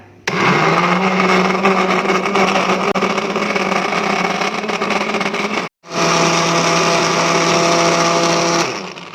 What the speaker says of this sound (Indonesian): Kita ambil santan kental ini. Nah, baru kita blender.